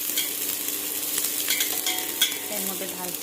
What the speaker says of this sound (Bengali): পেঁয়াজটা ভাজা হবে